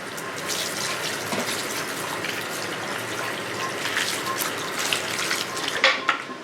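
Running water splashes steadily from a tap while hair is washed with shampoo, a continuous close gush with small spattering changes and no voices.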